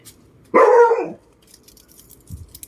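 A single loud dog bark, close and clear, followed by quiet background with faint rustling.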